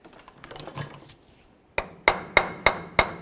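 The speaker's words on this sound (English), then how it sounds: "we're going to take our punch and our hammer and we'll give this a couple bonks to push the axle through" A hammer strikes a punch to drive the CV axle through the hub of a 1999-2007 Chevy Silverado, five sharp, close metallic bonks in a steady rhythm after some quieter shop handling noises.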